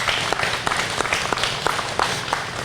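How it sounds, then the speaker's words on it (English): A round of applause for Corporal Jon Dodge of the Cass County Sheriff's Office, a modest crowd clapping at some distance with a few sharper individual claps standing out from a steady patter. "would you please join me in giving a big round of applause to Corporal Dodge"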